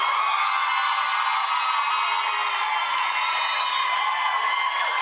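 Dense clapping from a TV talk-show studio audience runs steadily, mixed with cheering and scattered whoops, loud and sustained throughout.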